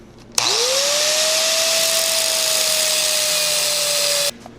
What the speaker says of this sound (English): I'm gonna cut the old bearing and race and everything off of the axle shaft here.